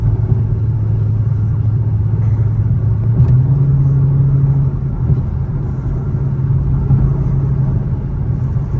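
A 2022 Dodge Charger R/T cruising, heard from inside the car as a steady low engine rumble with a brief rise in pitch midway, continuous road drone throughout and no talk.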